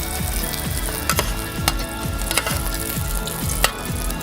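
Butter sizzles hard in a hot pan with shishito peppers, giving a dense, steady crackle. Through it runs a regular pulsing whir, like a kitchen fan or motor, and occasional sharper pops and clicks.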